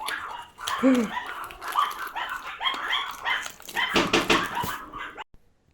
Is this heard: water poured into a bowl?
no